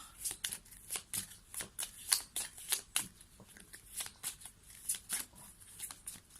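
Tarot cards being drawn and shuffled, a steady run of soft papery riffles and flicks in a quick rhythm, close and quiet with no talk.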